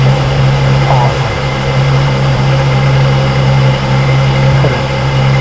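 A 2015 Ferrari F12 Berlinetta engine idling, a loud, steady, low rumble with a constant hum and faint background noise throughout.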